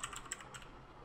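Quick keystrokes on a computer keyboard, a brief, faint burst of light clicking with no voices.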